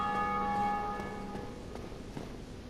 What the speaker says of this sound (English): Oh, someone just rang the bell.